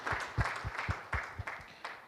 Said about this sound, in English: Please give them a hand clap again as they move back to their seats.